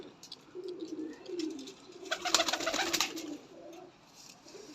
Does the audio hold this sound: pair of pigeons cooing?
yes